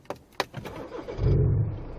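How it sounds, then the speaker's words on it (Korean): A BMW 5 Series with a mocha brown interior and an added sound booster starts up from inside the cabin: two quick clicks, then a brief crank and a low engine catch that settles into a steady idle. "바로 시동부터 한번 걸어보도록 할게요"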